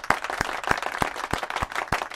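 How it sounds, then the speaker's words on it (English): A round of applause comes as sharp, evenly spaced claps, about eight in quick succession, close and fairly loud with no voices over them. "Can we give a round of applause?"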